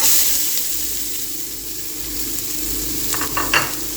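Onions fry in a pan for mutton keema, giving a steady close hiss and sizzle, with a few stirring scrapes near the end and no voices.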